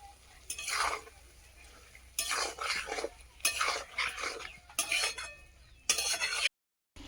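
A spoon scrapes and stirs ginger, garlic and green chili paste into cooked onions in a pan, in several distinct bursts of metallic scraping separated by short pauses, with a faint sizzle underneath.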